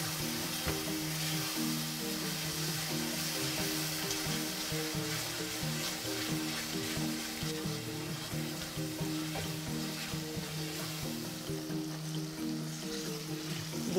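Eggplant pieces sauté in a pan with salt for baingan bharta, a steady close sizzle with soft stirring and bubbling, continuous and even with no voices.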